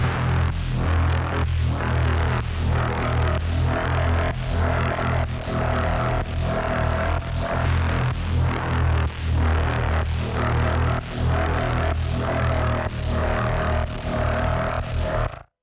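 Massive X Creatures preset pulsing effect in a Doom-style metal setting: a dense, dark synth drone with a steady throbbing pulse and a faint higher tone woven through, loud and unbroken with no talking.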